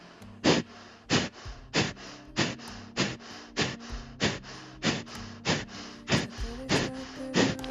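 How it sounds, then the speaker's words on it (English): Forceful exhalations during a guided breathing exercise come as a steady series of about fourteen sharp, short breaths, evenly spaced roughly every half second, close to the microphone, with a faint hum beneath. "And then exhale, pushing out the exhale."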